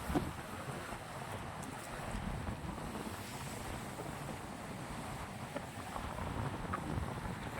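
Strong wind buffets the microphone outdoors, a continuous low rumbling roar with no letup and no one speaking.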